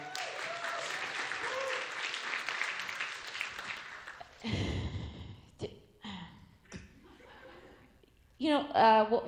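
Audience applause at a comedy club fades out over about four seconds, followed by scattered laughs, breaths and a short burst of voice near the end.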